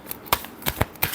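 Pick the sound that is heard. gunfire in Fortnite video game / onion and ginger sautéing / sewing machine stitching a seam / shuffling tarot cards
shuffling tarot cards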